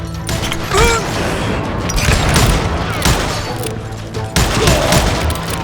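Sustained gunfire from the Western shooter game Call of Juarez: Gunslinger, a dense, continuous fusillade of rapid shots, booms and mechanical clatter filling the whole stretch at loud, steady volume.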